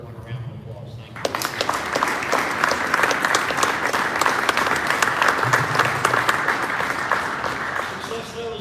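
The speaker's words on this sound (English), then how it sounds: "I just want to give everyone a round of applause." A crowd bursts into a sustained round of applause at a military infantry division change of command ceremony, loud dense clapping that starts suddenly and holds steady for several seconds.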